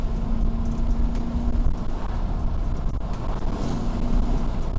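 Steady, loud engine and road rumble from inside a car on a canyon run in a BMW E34 540, with a truck pressing up close behind, the drone constant throughout.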